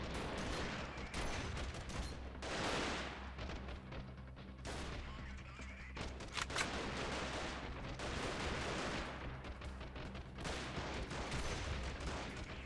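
Bursts of rifle and machine-gun fire crackle through a Freeman Guerrilla Warfare battle, with sharp repeated shots and dense exchanges coming in clusters that carry on for the whole stretch at a fairly low volume.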